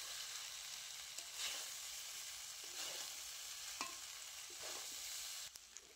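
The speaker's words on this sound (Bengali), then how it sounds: "চিড়ে দিয়ে হালকা আঁচে খুব ভালো করে নাড়াচাড়া করে নেব।" Soaked flattened rice (chira) is stirred with spices in a pan over low heat, making a soft, steady sizzle broken by several gentle scraping strokes of a spoon, fairly quiet and close, with no voices.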